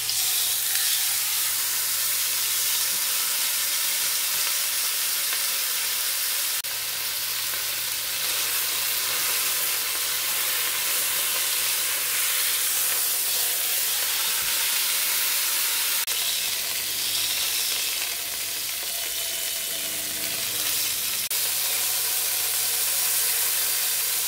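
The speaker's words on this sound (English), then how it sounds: "I'm going to sear our chuck on each side to give it a nice color" Beef chuck sears in a Dutch pot over high heat, giving a loud continuous sizzle and hiss with occasional spattering pops, close to the microphone, and no one speaks.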